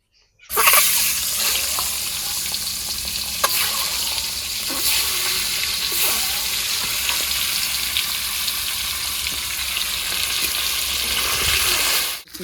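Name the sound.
food lightly frying in oil for egg curry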